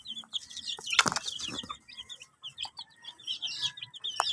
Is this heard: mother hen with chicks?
yes